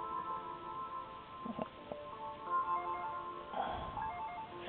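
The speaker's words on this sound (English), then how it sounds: "The phone is ringing in the living room." A telephone rings in the living room in the Game Boy Advance game Dragon Ball Z: The Legacy of Goku II, faint electronic chirping tones sounding intermittently over soft, tinny game music.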